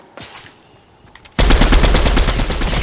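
Rapid automatic gunfire in the Fortnite video game erupts suddenly after a quiet stretch and keeps going loud and dense to the end, a continuous burst of close shots.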